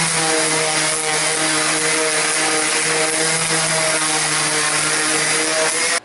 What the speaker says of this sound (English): sanded it with an 80 grit sandpaper to make it rougher